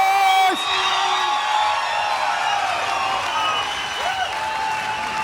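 Live crowd at a SteelFist 91 fight event in a hall, cheering, whooping and applauding loudly and steadily throughout, with a few shouts and whistles rising over the roar.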